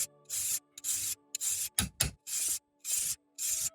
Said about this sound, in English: I'd like to think I'm going to file through it.